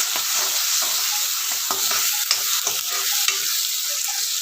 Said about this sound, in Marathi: आपण धने पावडर टाकूया, अर्धा चमचा।